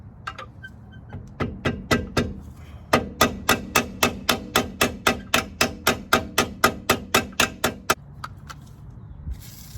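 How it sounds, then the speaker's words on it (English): Rapid, steady strikes of a small hammer on metal car suspension parts of a Mazda FB RX-7, a few scattered taps first, then a long even run of sharp, loud blows. "So using a small hammer isn't working"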